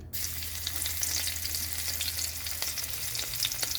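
Garlic sizzling in hot oil in a pan after fish has been fried for a spicy Bangladeshi fish curry, a loud, even crackle that runs nonstop, with no voices.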